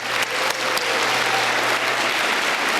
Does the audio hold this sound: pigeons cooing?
no